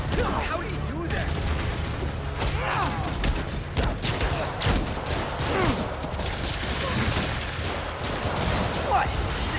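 Rockets fire and burst in a Marvel's Spider-Man game fight, a dense, continuous barrage of booms, whooshes and crackling blasts running loud throughout, with a voice talking over parts of it.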